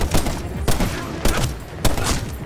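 Gunfire in the video game Medal of Honor Warfighter: loud bursts of shots repeat at a steady pulse, about four heavy volleys over a couple of seconds with a dense rattle between them.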